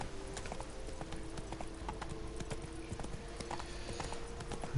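Horse hooves clip-clop in a steady, rapid rhythm as a rider gallops in The Witcher III, close and continuous over a low ambient bed, with a brief louder knock at the very end.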